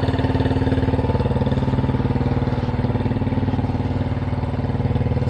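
Several motorcycles idle together at a roadside stop on a ride toward Leh Ladakh, a dense, even mid-pitched engine rumble with a fast steady pulse that holds unchanged and close throughout, with no one speaking.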